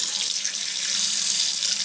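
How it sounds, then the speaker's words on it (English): Tap water runs steadily into a sink while Kool-Aid-dyed linen is rinsed, a continuous close hiss that stays even and loud with no talking. "So I'm going to dump this out and rinse it."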